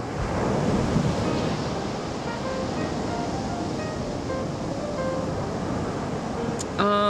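Ocean surf washes steadily onto a beach, a continuous broad roar with gentle swells in loudness, close to the microphone, while a voice talks faintly underneath.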